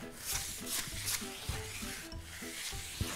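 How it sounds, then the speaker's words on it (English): Sandpaper rubbing back and forth along the edges of a wooden ottoman, a steady scratchy rasp with rhythmic strokes repeating roughly every half second, close and fairly quiet. "we're gonna work our way up to a finer sandpaper"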